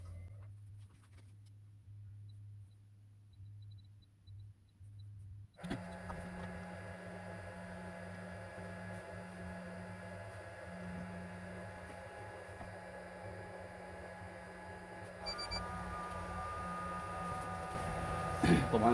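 A rework machine powers on with a Toshiba Satellite C660 laptop board mounted on it, a low hum giving way to a steady fan-like whir and electrical drone that continues and swells slightly toward the end.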